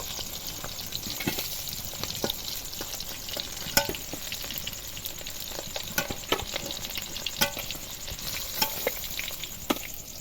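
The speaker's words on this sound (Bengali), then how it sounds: "এবার বাকি মাছগুলো আবার ওই তেলের মধ্যে দিয়ে ভেজে নেব" Pangas fish frying in hot oil in a pan, a steady close crackling sizzle with scattered sharp pops and spatters throughout.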